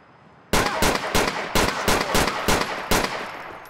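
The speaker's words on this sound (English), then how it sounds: "Just randomly shooting at officers while we're taking care of some business over here." Gunfire in GTA IV with the LCPDFR police mod: a rapid volley of loud, close bursts, about eight sharp shots in an uneven rhythm, with no voices over them.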